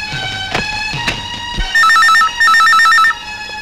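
A telephone bell rings in two loud, steady bursts, preceded by a few sharp knocks or footsteps.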